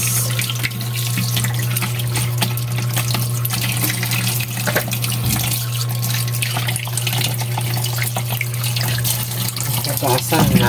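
Carrots washed under a running kitchen tap, a steady close rush of water with splashes and small clatters throughout, a faint voice now and then behind it.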